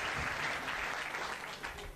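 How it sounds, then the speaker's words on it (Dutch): An audience applauds a trumpeter at a jubilee celebration for seven directors of Nat.Lab., a dense, steady wash of clapping that fills the room without a break and eases off only slightly toward the end. "Ik wil nog een speciaal applaus vragen voor onze trompetist."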